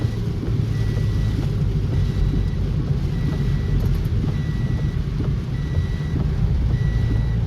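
Car warning beeps repeat at a steady, regular pace inside a moving car, sitting over a constant low road and engine rumble.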